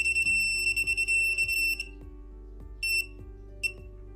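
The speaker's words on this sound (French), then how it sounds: "Quand le détecteur s'approche d'une source RF, il émet une alarme longue ou vibre en continu" A K18 RF detector sounds its alarm on picking up an RF signal, a rapid series of high electronic beeps at first, then a few separated beeps, faint and clean with no talk.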